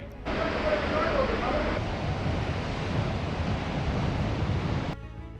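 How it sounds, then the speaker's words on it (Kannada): Rough sea surf roaring steadily during heavy monsoon rain in Karnataka, with wind buffeting the microphone, a continuous heavy wash that cuts off abruptly near the end. "ಸಮುದ್ರ ಹೇಗೆ ಪ್ರಕ್ಷುಬ್ಧಗೊಂಡಿದೆ ನೋಡಿ"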